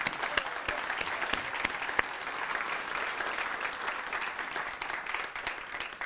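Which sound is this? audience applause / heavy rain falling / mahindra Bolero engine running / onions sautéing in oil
audience applause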